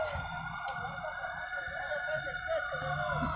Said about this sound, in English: Do you hear the ambulance in the background?